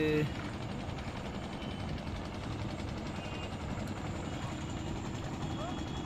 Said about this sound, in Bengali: ও দেখো একটা টলার আসতেছে